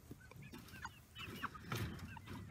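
Meat chickens raised in a small backyard space cluck and murmur faintly, with several soft overlapping calls and a low, continuous flock chatter close by.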